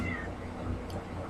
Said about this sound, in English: here's my cat come to say hello to see what we're doing